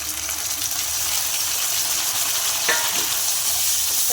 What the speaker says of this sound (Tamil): தக்காளியும் கொஞ்சம் நல்லா வதங்கட்டும்.